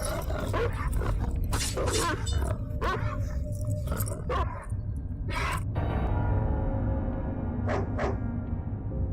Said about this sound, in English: These beasts could not frighten Darcy or stand in her way